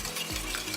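Egg batter with masala and milk is stirred briskly in a bowl, a short burst of close, soft mixing with no voices.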